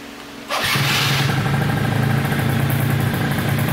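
Small motorcycle engine starting up after sitting unused for six months on old fuel, catching abruptly and settling into a loud, steady, close idle with an even pulsing rhythm.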